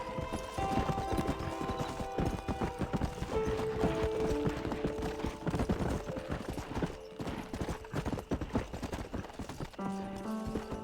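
A horse gallops in the video game Red Dead Redemption, with rapid steady hoofbeats running throughout, loud and close under a tonal musical score, with no voices.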